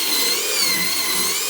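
A power drill whirs steadily while scrubbing carpet with dry cleaning compound, a loud continuous high-pitched buzz that holds its pitch without pause.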